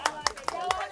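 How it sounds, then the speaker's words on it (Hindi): At a music launch event, a few hands clap in a steady rhythm, five sharp, close claps about a fifth of a second apart, over a faint background murmur. "ताली बजाओ यार इसके नाम पे"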